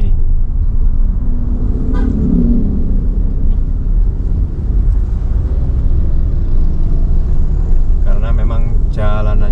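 Dense holiday-season road traffic near Mojokerto, with a steady loud rumble of engines and passing vehicles throughout, a short horn toot early on and a few brief horn blasts near the end, all close and continuous.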